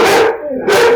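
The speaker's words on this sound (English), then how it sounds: "Sorry, the dogs are barking." Dogs barking indoors, two loud close barks with a short gap between them.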